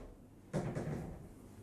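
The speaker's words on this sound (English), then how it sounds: "don't worry, that door was not slamming. There is a catch for it, so that noise was fine" A wooden closet door on a yacht swings shut onto its catch, giving a single soft thump followed by a brief rattle and click, close and moderate in volume, in an otherwise quiet room.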